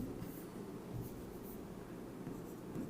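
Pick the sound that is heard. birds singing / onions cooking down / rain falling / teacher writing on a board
teacher writing on a board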